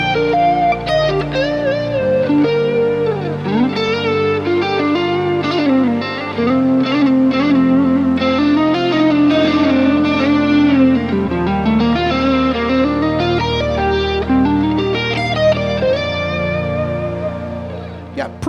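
An electric guitar plays a freely timed, expressive solo with bends and sustained notes over the backing chords of a song, washed in reverb and echo, loud and continuous without speech.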